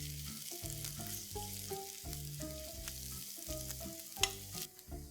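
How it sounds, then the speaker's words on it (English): Coconut peanut paste sautéing in a pan over softened onions for a South Indian drumstick curry, a soft steady sizzle running under louder melodic background music for about five seconds. "Into this I'm going to add this coconut peanut paste. Saute this paste for a minute."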